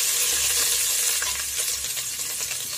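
Carrots sizzle steadily in hot oil in a pan while a chicken biryani made without onions is being prepared, with a constant close crackle and no voices.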